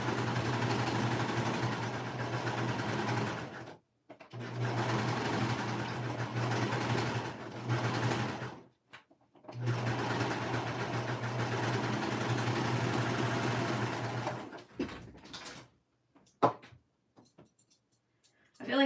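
A sewing machine stitches sleeves onto a kid's peplum top in bursts of steady mechanical whirring with a low hum, stopping briefly between runs and falling quiet near the end.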